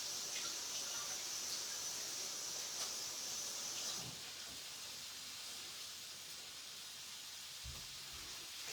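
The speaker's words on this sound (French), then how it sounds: "Je les coupe juste en deux et je vais les rincer." Running tap water splashing over leeks cut in half, a steady near hiss that continues unbroken, with faint kitchen clatter toward the end.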